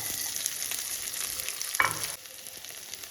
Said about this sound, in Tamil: நல்லா பொரியட்டும் வரமிளகாய் காரத்துக்கு ஏற்ப போட்டுக்கங்க